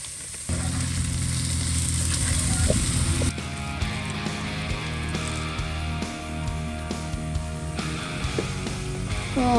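Lamb with plenty of garlic and soy sauce sizzles steadily in a hot pan, a dense continuous crackle with small pops and occasional utensil scrapes, close and loud.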